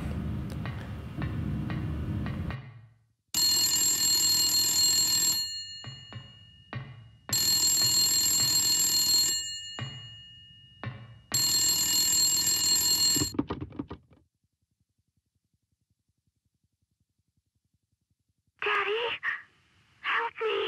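A telephone in the horror game Silent Hill 3 rings in three long, loud bursts separated by short gaps, with a low voice talking before the rings and faint sounds near the end.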